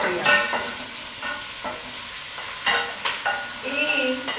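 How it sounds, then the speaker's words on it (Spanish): Chili peppers sizzle and fry in a pan with softened onion, a soft steady crackle broken by the scrape and clatter of stirring, close and moderately quiet. "voy a echar los ajíes, todos los ajíes que se sofrían"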